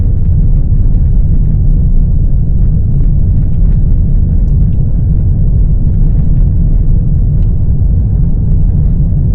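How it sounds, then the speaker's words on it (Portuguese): Inside a Tesla Model 3 Highland driving over a cobblestone road, a loud, steady low rumble of tyres on the stones fills the cabin without pause, with no talking. "Neste momento estou a conduzir em estrada de paralelos."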